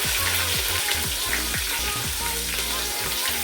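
Sliced onions and green chillies with a bay leaf frying in oil for mutton pulao, a constant close sizzle overlaid with a low repeating mechanical hum.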